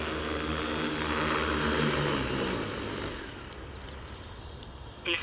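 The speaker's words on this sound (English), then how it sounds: "We'll land by bringing the throttle all the way down and holding it there until the aircraft disarms." An Astro drone's propellers whir with a loud, steady buzzing hum, then the pitch and intensity sink as the throttle is pulled all the way down for landing, leaving a quieter, rougher spin-down near the end.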